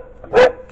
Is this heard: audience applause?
no